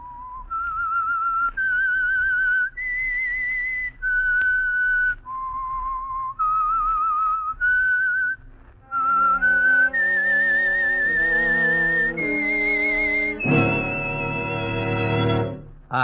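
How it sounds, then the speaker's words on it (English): A lone whistler carries the eerie theme signal of the 1946 radio mystery program The Whistler, with clear sustained notes stepping up and down in phrases. The last few phrases grow fuller as accompanying instruments join beneath the melody. "That whistle is your signal for the Signal Oil Program"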